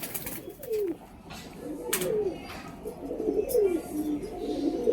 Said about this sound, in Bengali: একটা মাদা পায়রা রয়েছে